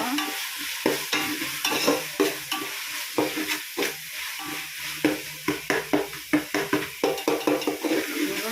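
Mint leaves sautéing in a large biryani pot, stirred in a quick run of close, rhythmic scraping strokes over a steady oily sizzle, with no voices.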